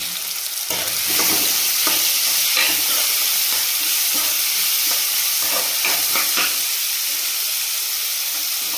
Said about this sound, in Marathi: मी टाकत आहे कांदा कांदा नरम होईल पण त्याला छान आता परतून घ्यायचा